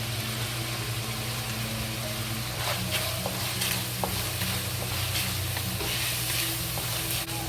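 Ground beef frying in a wok with Chinese black fermented soybeans, a steady sizzle with occasional stirring scrapes and clicks over a low continuous hum.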